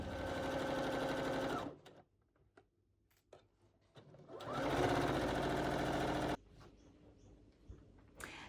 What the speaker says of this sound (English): once I press go with the machine just basically stitches that buttonhole for me, all as one step